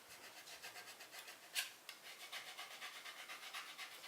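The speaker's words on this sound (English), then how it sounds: "I'm going to pick up my squeegee again, and I'm going to just rub it on" Squeegee rubbed firmly over a vinyl decal on a Rae Dunn–style DIY piece, a steady soft rasping scrape in repeated back-and-forth strokes, close and fairly quiet, with one sharper scuff partway through.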